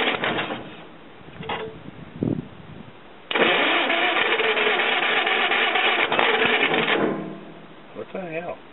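The pony motor on a 1956 Caterpillar D6 9U is cranked and started at idle, with short rough bursts first and then a sustained loud, rattling run that cuts off again, close by, with brief voices around it.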